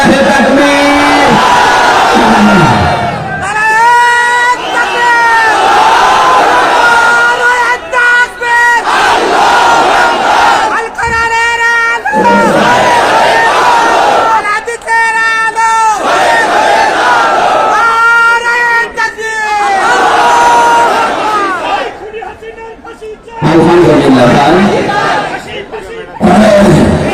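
A large crowd at an outdoor Islamic sermon gathering in Shahzadpur shouts takbir in unison, repeated loud chanted bursts roughly every few seconds, with the preacher's voice calling between them.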